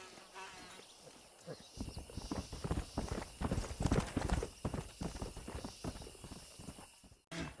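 Hooves of a stallion clip-clop in a Red Dead Redemption game scene, a steady rhythmic trot mixed with insect buzzing and outdoor ambience, no talk over it.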